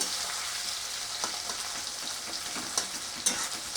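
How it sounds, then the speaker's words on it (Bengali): Chopped onions fry in a pan for a soybean and potato dish, with a steady close sizzle and occasional sharper scrapes as they are stirred and spread out. "পেঁয়াজটা দিয়ে নিয়ে নাড়াচাড়া করে নিচ্ছি একটু পেঁয়াজটা হালকা লাল করে নিতে হবে"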